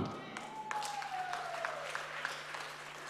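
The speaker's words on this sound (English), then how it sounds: "Can you clap your hands as your hands are up?" A church congregation at a Sunday service claps steadily and continuously while a voice speaks over it, with a faint sustained tone running underneath.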